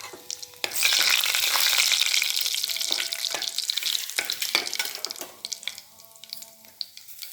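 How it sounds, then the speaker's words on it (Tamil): Cumin seeds and two dried chilies sizzle and crackle in hot oil for a dal tadka, a loud, steady frying hiss with scattered sharp pops and a few stirring clicks, no voices. "கொஞ்சம் எண்ணெய் காஞ்சிடுச்சு. இப்போ ஜீரகம், 2 காஞ்ச மிளகாய்,"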